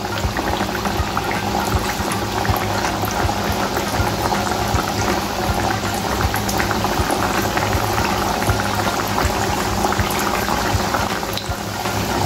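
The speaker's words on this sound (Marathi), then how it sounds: "अशाच प्रकारे आपण राहिलेल्या कचोऱ्या सुद्धा छान अशा तळून घेऊया" Matar kachori deep-frying in hot oil over a low flame, a dense, loud, continuous bubbling and crackling that holds steady throughout with no voices.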